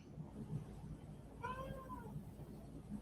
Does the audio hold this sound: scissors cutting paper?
no